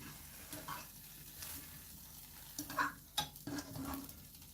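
Fresh nettles sweating in a pan, a faint soft sizzle with light stirring scrapes and occasional clinks of a utensil against the pan.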